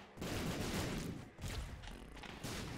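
Dense, continuous rumbling blasts from a ring of explosions surrounding the player in modded Binding of Isaac Repentance, loud and unbroken across the clip with two brief dips.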